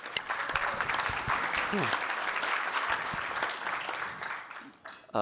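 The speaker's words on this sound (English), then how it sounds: "she deserves a round of applause" An audience applauds the university president at a talk on cities and urban sustainability, a dense, steady clapping from a seated crowd that fades out near the end.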